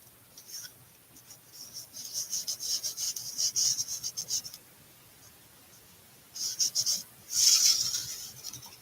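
A tool rubbed lightly over paper during a crafting session, giving soft dry scratchy strokes in bursts, with a quieter pause before a louder final stretch.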